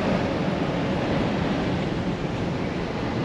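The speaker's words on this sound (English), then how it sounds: "A little bit windy." Wind sweeps across the beach at Double Island, a loud, steady broadband roar buffeting the microphone with surf mixed in, continuous for the whole stretch with no voices.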